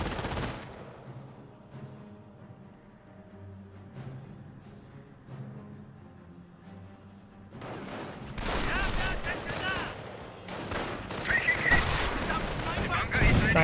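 Gunfire and sniper shots from the real-time strategy game Company of Heroes, first sparse distant bursts, then dense loud volleys of rifle and machine-gun fire with explosions over the last several seconds.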